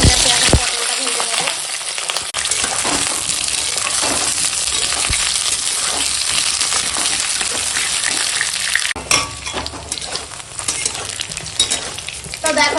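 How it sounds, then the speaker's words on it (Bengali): Pointed gourd (potol) fries in hot oil with a loud, dense, continuous sizzle and crackle, punctuated by utensil scrapes and stirring clatter, close up and steady throughout. "এখন পটলগুলো ভাজা হয়ে গেছে এবার তুলে নেব"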